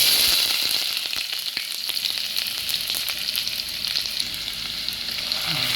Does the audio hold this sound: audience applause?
no